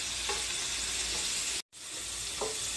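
Shrimp sizzle steadily in butter in a hot pan, a dense close frying hiss with occasional stirring scrapes and a momentary dropout midway.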